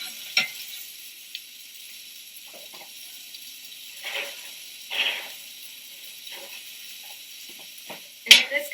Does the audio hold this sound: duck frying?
yes